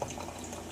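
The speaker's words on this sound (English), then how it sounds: "then I pour me some coffee in my cup" Coffee poured into a cup, a soft continuous liquid pour with a gentle filling gurgle, steady and close for under a second, no voices.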